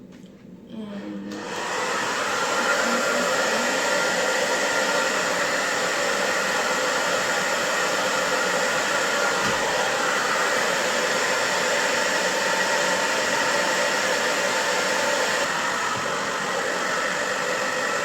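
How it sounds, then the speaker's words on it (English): A hair dryer with a diffuser attachment dries hair. It starts after a brief moment and then blows as a loud, steady, close whooshing roar that continues unbroken to the end. "I already put to use the diffuser"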